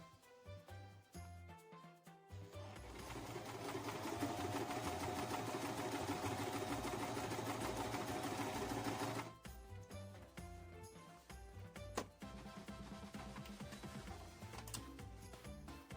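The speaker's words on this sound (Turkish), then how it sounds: "bu kot kumaşı dikeceğim" Singer sewing machine stitching folded stretch denim fabric, a steady fast mechanical whirr that runs for several seconds, stops, then gives way to quieter clicks and handling sounds.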